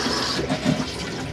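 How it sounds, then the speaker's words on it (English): A cassette toilet flushes inside an Elddis Signature 185 caravan, a steady, close rush of water that runs evenly for the whole stretch without any voices. "So always flush before use, lubricates the blade, open the blade, use the toilet, then flush after use"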